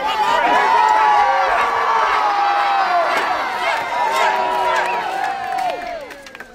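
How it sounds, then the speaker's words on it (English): Spectators at a Renaissance faire joust cheer and shout excitedly, a dense roar of many voices with individual yells rising above, loud and sustained before tapering off. "Lords and ladies, the louder you cheer, the harder they hit. Cheer your favorite champion to victory, or mourn them in defeat!"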